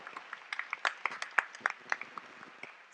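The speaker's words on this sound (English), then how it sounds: "I heard a rumble of applause." Light, scattered applause from a small crowd, a few dozen sharp claps spread unevenly over a couple of seconds.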